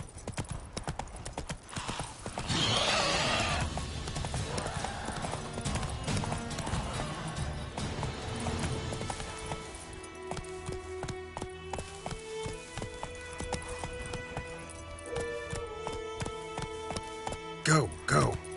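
Roach, Geralt's horse in the video game The Witcher 3, gallops with a steady, rapid clip-clop of hooves over a continuous bed of music, with a brief louder burst of hoofbeats near the end.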